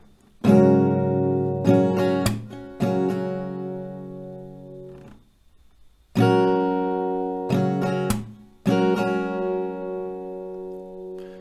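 An acoustic guitar strums a pattern in two short bursts, bright down and up strokes with sharp percussive slaps between them, close and alone with a brief pause in the middle.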